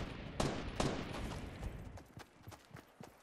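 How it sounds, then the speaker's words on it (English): Gunfire from a Fortnite match: several sharp shots crack out at uneven intervals, two loud ones early followed by a quicker burst of fainter, more distant rounds. "Who's shooting?"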